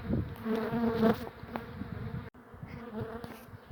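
Honeybees from a large hive being relocated at a steam rally, humming as a steady, dense buzz close by throughout, with individual insects droning past and no talking.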